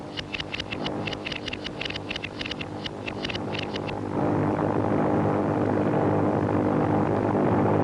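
Japanese bomber planes in a wartime air raid over Chongqing, China, drone loudly with a pulsing propeller beat that gives way to a steady, dense engine roar.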